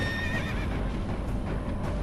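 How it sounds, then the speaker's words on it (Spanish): Horse neighing in a short, close whinny with a wavering high cry over the first half-second, then fading into a steady low rumble of hooves and movement. "Un súbito relincho la saca del abismo."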